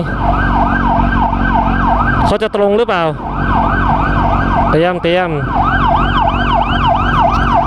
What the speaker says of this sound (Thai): รถหวอไปทางไหน